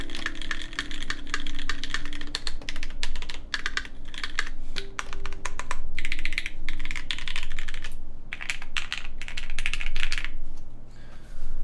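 Fast typing on mechanical keyboards fitted with PBT and ABS keycaps: close, continuous clacking keystrokes in uneven bursts with short pauses, crisp and fairly loud, with no talk.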